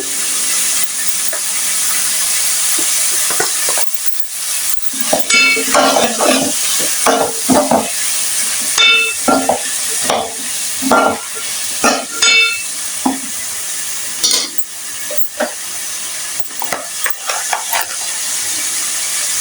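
Onions fry with turmeric in a pan for a dried prawn stir-fry, giving a constant hiss beneath irregular bursts of a spatula scraping and stirring, loud and close.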